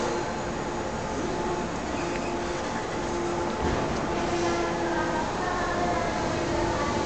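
A JR 415 series four-car local train for Nogata at Hakata Station, a low steady rumble of rolling stock with faint tonal hums and platform ambience, steady and moderately distant for several seconds.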